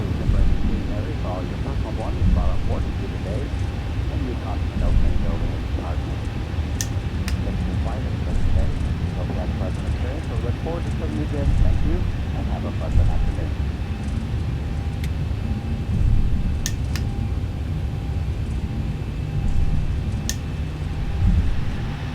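Simulated Boeing 737-900ER thrust reversers roar during the landing roll in X-Plane 11, a steady broad engine rush with rumbling traffic-like noise throughout and someone talking over it.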